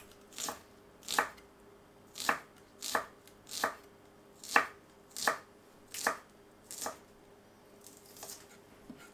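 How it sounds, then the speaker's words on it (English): A knife thinly slices peeled shallots on a board in about a dozen crisp, evenly spaced cuts, close and clear with no talking. "peel and thinly slice shallots"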